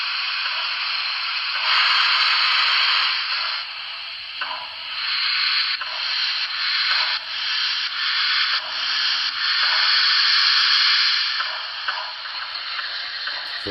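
An N scale Pennsylvania T1 steam locomotive's power reverse sound effect plays as a steady, hissing, rushing chuff with faint rhythmic beats, continuous and fairly close throughout.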